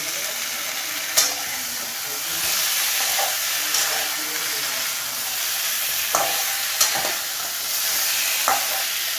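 Ginger paste fries with a steady hiss in a pan while being stirred, with a handful of sharp scrapes and taps of the utensil spaced across the steady sizzle, close and moderately loud.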